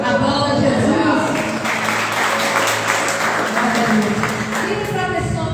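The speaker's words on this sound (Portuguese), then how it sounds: "Aplauda Jesus." A church congregation claps in praise at a Portuguese-language worship service, a loud continuous round of applause mixed with voices and background music throughout.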